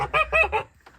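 A Mammoth-breed goose gives three loud, nasal honks in quick succession, close by, followed by a brief faint call.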